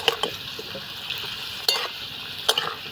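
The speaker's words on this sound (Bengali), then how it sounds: "টুকরো করে কেটে রাখা আলুগুলো দিয়ে ভেজে নিচ্ছি আমি" Potato pieces fry in oil with dried red chili and cumin seeds: a steady close sizzle with a few sharp spatters and stirring clinks.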